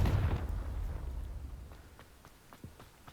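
A Confringo spell blast from Hogwarts Legacy: a loud fiery burst at the start that rumbles and fades, followed by a few scattered lighter impacts and crackles.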